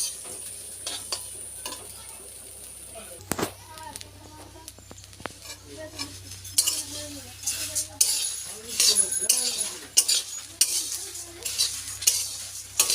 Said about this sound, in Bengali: একটু ভালো করে নাড়াচাড়া করে নিয়ে লাবিয়ে ফেলবো